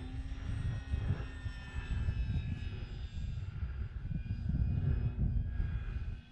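An Arrows RC Bigfoot model airplane flying overhead, its propeller motor giving a continuous whining buzz with steady tonal pitch over wind-like rumble, moderately distant and without speech.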